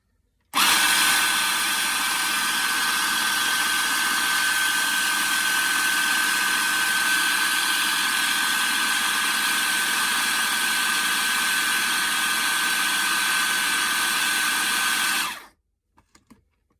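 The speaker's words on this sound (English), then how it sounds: "the way to do it is as long as you can, you keep going with your mixer" A kitchen mixer runs continuously for about fifteen seconds, blending cream for a raw zucchini lasagna, a loud steady whir with no one speaking, then cuts off abruptly and leaves a few faint clicks.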